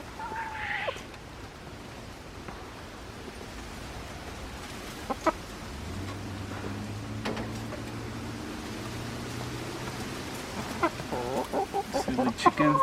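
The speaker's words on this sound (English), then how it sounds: "See the chickens that like to throw stuff on the ground so they can eat it." A few soft chicken clucks come and go over a quiet background with low rumbling and scattered small noises.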